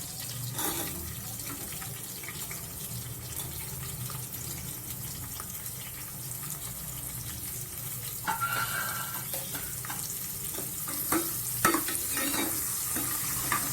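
Onions being fried in a pressure cooker for chicken biryani, with a constant close sizzle and hiss and occasional spoon scrapes and clicks, a few louder stirring knocks near the end, no talking.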